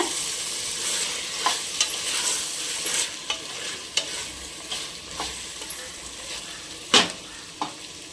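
Soft sizzling of chicken masala sautéing in a pan for biryani, with repeated sharp scraping clicks of a spatula stirring, irregular and close, no talking.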